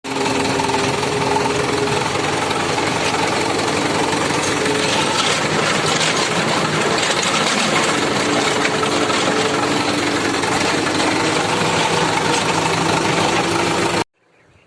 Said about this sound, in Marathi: इथं आपलं ट्रॅक्टर आहे नांगरायचं आपल्याला